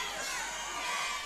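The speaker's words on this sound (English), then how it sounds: "And the crowd starting to turn, chanting Baylor, trying to get him to the ground." Dense, loud roar of an MMA fight crowd chanting a fighter's name, a brief steady wall of many voices with no single speaker standing out.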